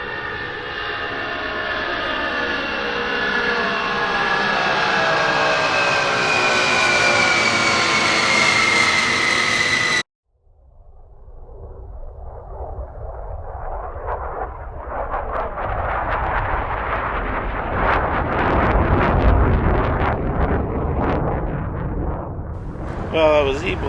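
An F-35 fighter jet at the Great Texas Airshow at Joint Base San Antonio roars past loudly, its whine sliding downward, then breaks into a deep, rumbling thunder that swells and lingers as the plane moves away.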